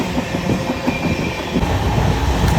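A passenger train speeds through Ernakulam toward Kottayam in Kerala, heard from on board as a loud, steady rumble with rhythmic clickety-clack of wheels over rail joints.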